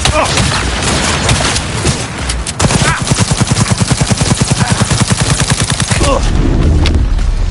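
Heavy automatic gunfire from the Cyberpunk 2077 video game rattles in a fast, dense burst. It is loud and close, with shouting and booming effects layered over it.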